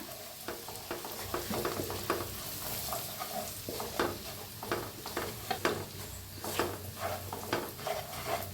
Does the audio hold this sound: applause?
no